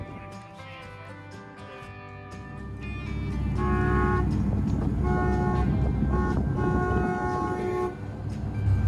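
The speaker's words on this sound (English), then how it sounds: "Thanks for blowing the train horn, Captain Walt." A loud, sustained train-style horn on a party fishing boat blows in long chords over a deep engine rumble, sounding twice with a short break between blasts.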